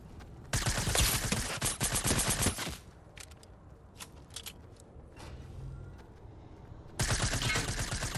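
Fortnite gunfire: two loud, rapid automatic bursts, a long one near the start and another at the end, separated by quieter scattered shots and game noise, with no talking.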